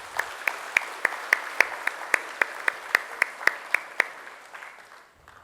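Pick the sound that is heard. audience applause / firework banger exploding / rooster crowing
audience applause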